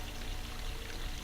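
Continuous broadband rush of a waterfall from The Legend of Zelda: Ocarina of Time, steady and unbroken, with no voices over it.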